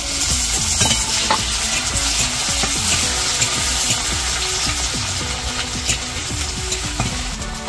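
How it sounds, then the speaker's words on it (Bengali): Garlic, chopped chili and tomato fry in a pan for palak paneer, a dense crackling sizzle up close with frequent stirring scrapes and clinks, no speech. "তো দেখো এইবার রসুনগুলো এই লঙ্কা কুচি আর এই যে পাশে টমেটো কুচি আছে দিয়ে"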